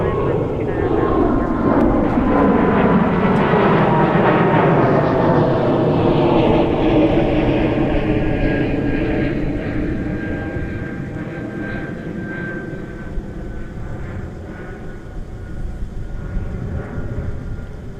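A jet airliner passes at Minneapolis–St. Paul airport, a broad roaring engine wash that swells loud early and slowly fades as it moves away, with a sweeping tonal whine and faint radio chatter beneath.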